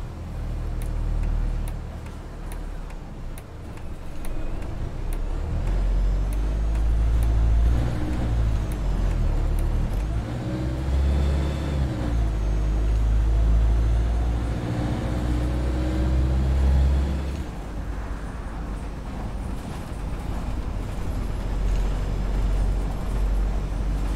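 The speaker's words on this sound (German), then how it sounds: "Auch schön das Klappern von dem Bus." Masterlite bus in the OMSI 2 simulator, a low engine drone with a light rattling tick running continuously over about twenty seconds.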